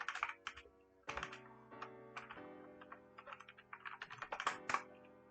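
Someone types Python code on a computer keyboard, making close, crisp keystrokes in uneven bursts with short pauses and a quicker flurry near the end.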